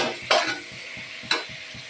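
Meat being sautéed in a pan for kosha, a low sizzle under two sharp scraping stirs with a soft rhythmic bubbling pulse between them.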